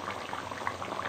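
Chicken paneer curry bubbling steadily in a pot, a dense stream of soft pops and gurgles at a constant, moderate level, close by with no talking.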